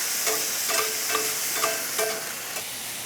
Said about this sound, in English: I will go ahead and put those beans in the other side of the pan to get that warming up